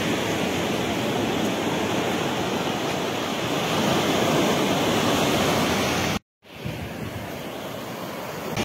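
Sea waves wash continuously onto the beach at Tarkarli in a steady, loud roar of surf, with a brief break near the end before the rush of water resumes.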